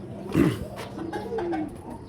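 Pet pigeons coo in a loft, a low throaty burble that swells near the start and rolls on in softer murmurs close by.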